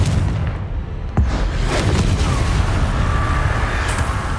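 A Confringo spell explodes in Hogwarts Legacy, a loud fiery boom with a sharp crack, then a rumbling blast that tails off into a sustained roar, heard alone.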